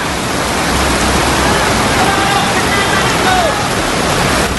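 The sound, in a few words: flash flood water rushing in Padang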